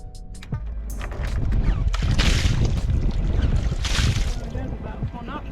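A sailboat motoring into Amsterdam harbour from the Markermeer, with steady water wash and wind noise on the microphone rising and staying loud throughout, and a few faint voices in the background.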